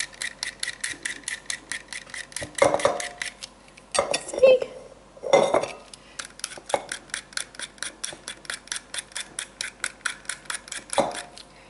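Carrots being scraped with a small hand peeler for coleslaw, a steady run of quick, rhythmic rasping strokes close by, broken by a few louder knocks and clatters on the work surface.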